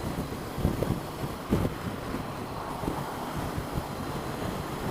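Wind turbulence buffeting a rider on a 2019 Honda CB500X motorcycle, a steady rushing roar with low thumps and gusty bursts near the microphone, no voices.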